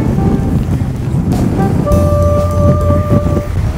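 Strong wind buffets the open hillside at a wild camp in the Welsh Black Mountains, a continuous rushing roar with gusty swells, with a few faint tonal whines partway through.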